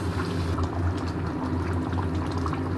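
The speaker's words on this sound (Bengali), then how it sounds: "এবারে দিলাম জল" Water goes into a pan of simmering chicken curry, a close, steady watery rush and bubbling that holds at an even level for a few seconds.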